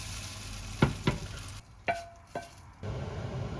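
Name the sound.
scrambled eggs cooking in hot oiled pan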